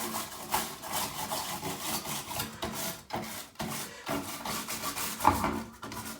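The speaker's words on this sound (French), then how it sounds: "Et je m'en vais nettoyer la carte mère. Avec une brosse à grand poil, bien sûr, pour ne pas arracher de composants." Soft, long-bristled brush scrubbing the motherboard of a Schneider CPC 664 computer during repair, a steady dry rubbing and rasping that continues for several seconds with brief pauses, close and fairly quiet.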